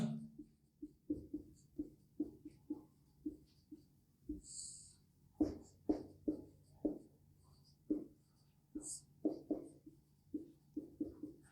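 A marker scratches across a board during a Hindi-language lecture, in quick rhythmic strokes grouped into short bursts with brief pauses. The sound is close and quiet, with no talking.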